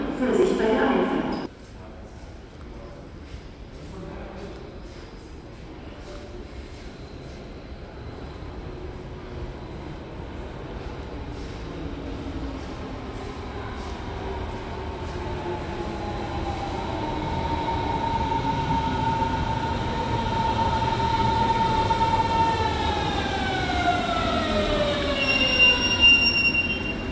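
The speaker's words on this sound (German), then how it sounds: "Einfahrt S9 nach Grünau. Vorsicht bei der Einfahrt." A Berlin S-Bahn S9 train of class 481/482 pulls into Zoologischer Garten station, a long rumbling approach with rising wheel squeal and whining motor tones that slide downward as it slows, preceded by a brief loud announcement voice.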